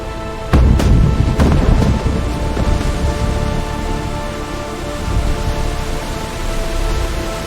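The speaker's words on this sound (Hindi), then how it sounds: "इतनी तेज बारिश और तूफान है," A heavy rainstorm pours down hard and close, a dense roaring hiss with a burst of sharp, loud impacts near the start that settles into a steady downpour.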